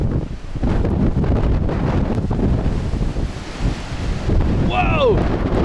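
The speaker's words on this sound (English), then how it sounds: "Man, it's windy out here." Strong, steady wind roaring across an open lakeside during a January snowstorm, loud and continuous with constant buffeting against the microphone; a brief voice surfaces near the end.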